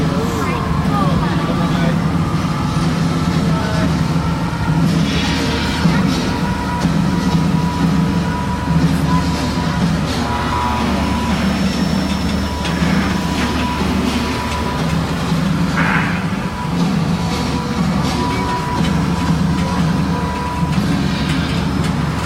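A studio tour tram rolling along at Hollywood, with a loud, steady rumble of wheels and motor, rhythmic rail-like clatter, and occasional squeaks, with a voice speaking over it.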